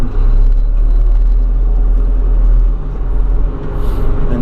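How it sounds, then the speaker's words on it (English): A backhoe's diesel engine rumbles steadily as the machine is put in first gear and driven forward on a rainy day, a low continuous drone with a slight dip in level partway through and no talk. "Now we're ready to load the backhoe."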